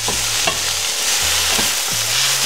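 Tomatoes and Swiss chard being stirred into a frying pan over medium heat, a few distinct scraping stirs over a steady low sizzle, close and fairly loud with no talking.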